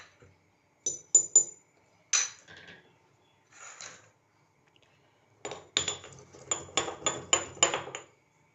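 Roasted cumin seeds being ground by hand for a fresh mango drink, heard as sharp, irregular pounding and clacking strikes in bursts, a few spaced knocks then a rapid cluster of loud, close impacts.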